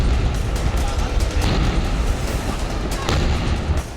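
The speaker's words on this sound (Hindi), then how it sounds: "फिर एक के बाद एक सिलेंडर में धमाके होने लगे।" Gas cylinders burst one after another in a burning truck, loud repeated booms and cracks over a roaring rumble, with voices talking beneath.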